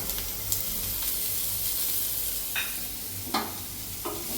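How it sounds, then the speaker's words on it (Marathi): Onion frying in a pan with garlic for egg ghotala, a constant low sizzle with a few distinct scrapes of a spatula turning the onion, heard up close with no talking. "कांदा टाकला, भाजत आलेला आहे. छान भाजून घेऊया."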